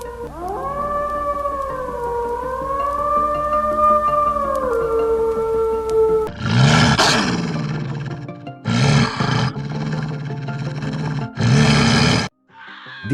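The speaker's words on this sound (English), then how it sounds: "These are the sounds the Russian wolf makes." Russian wolf giving a long, smooth wavering howl, followed by several harsher growling, snarling bursts with short gaps between, close and loud.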